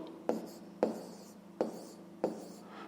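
A pen writes out a maths calculation by hand, making four evenly spaced strokes that each start with a soft tap and trail off in a brief scratch.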